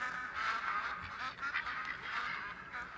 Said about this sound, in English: Our mallard there.